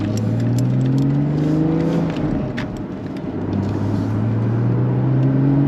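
A 2016 Porsche Boxster Spyder pulls away from a standstill, heard from inside the cabin, with its engine note climbing through the revs, dropping briefly at a gearshift, then rising again in a smooth, loud steady drone.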